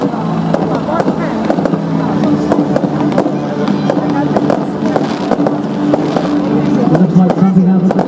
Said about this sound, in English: Fireworks are literally shooting left and right from either side of Otto the helicopter.